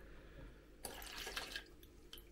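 Yeast starter of yeast, sugar and warm water poured for homemade apple cider, a brief splashy stream of liquid falling into a vessel, close and fairly quiet, with a few drips trailing after.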